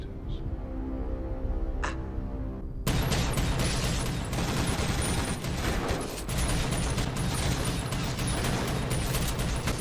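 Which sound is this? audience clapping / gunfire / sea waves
gunfire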